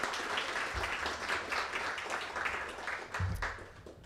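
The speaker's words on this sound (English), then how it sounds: "That deserves a round of applause." Audience applause at a city council State of the City address, a dense, steady patter of many hands clapping throughout, moderately distant with a few low thumps.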